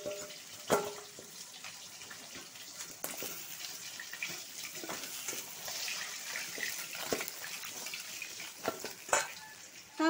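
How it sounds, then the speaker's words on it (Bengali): Katla fish pieces fry in a pan with a quiet, even crackle. Occasional sharp clatters from turning or handling break the sizzle, and no one speaks. "আমার মাছগুলো ভাজা হয়ে গেছে"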